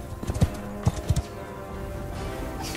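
Horse hooves in the Bannerlord video game: a handful of close, hollow clip-clops in an uneven cluster, then a quieter steady background.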